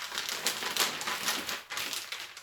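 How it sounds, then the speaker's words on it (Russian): Dry straw stuffed into a plastic bag while packing fish for shipping makes a steady, close crinkling and rustling with a few sharper rustles, and no talking. "Положим энное количество соломки в этот пакетик."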